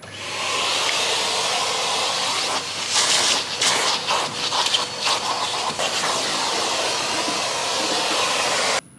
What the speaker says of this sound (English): got to vacuum the carpet whilst the seat's out